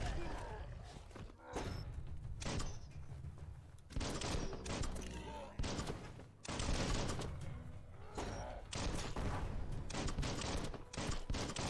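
Bursts of gunfire in the Biomutant video game, repeated volleys of shots in several clusters with short pauses, fairly loud and close with game effects in between.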